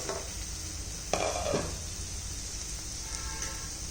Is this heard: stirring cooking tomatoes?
yes